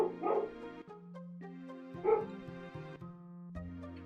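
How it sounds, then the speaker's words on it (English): Dogs bark in two short bursts of yips and woofs, moderately loud, separated by tonal background sounds, with no talk over them. "For those curious of what my dogs are barking at, the answer is anything."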